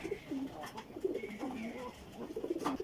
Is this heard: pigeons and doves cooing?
yes